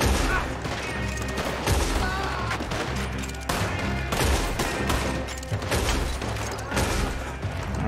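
Gunshots in the Red Dead Redemption 2 video game crack out as a loud, sustained firefight: many overlapping reports and sharp bursts at irregular intervals, with faint voices mixed in.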